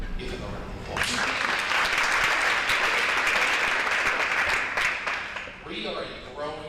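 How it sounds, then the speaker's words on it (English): An audience at a town hall meeting applauds for about five seconds, a dense burst of clapping that starts abruptly, holds steady, then thins out as a voice returns near the end. "Give him a round of applause."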